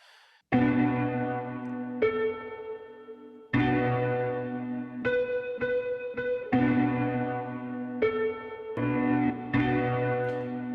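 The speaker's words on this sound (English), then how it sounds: "So I chopped up a note and I reversed it, and actually the effects make it sound like more like bells." A chopped and reversed piano note, processed with effects into bell-like tones, repeats in a steady pattern of ringing, resonant strikes at moderate volume with no voices.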